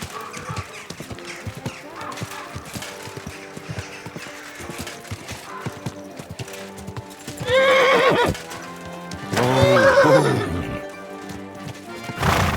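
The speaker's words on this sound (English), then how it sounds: "Watch out for that horse." In the video game Kingdom Come: Deliverance II, horse hooves clip-clop steadily, followed by two loud whinnies, with background sounds and music layered underneath.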